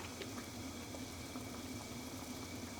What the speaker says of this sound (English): we got some boiling going on. Can you see it's bubbling around the edges?